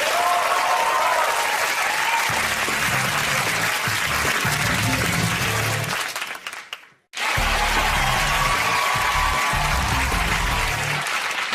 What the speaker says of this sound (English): Once again, Natalie, give her a round of applause.